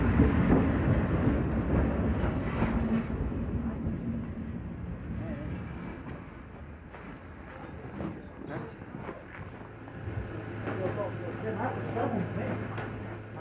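Rumble of a hybrid locomotive and railway work unit running outdoors in winter at Ospizio Bernina on the Bernina line, a low engine drone with wind across the microphone, rising to a steady tone near the end.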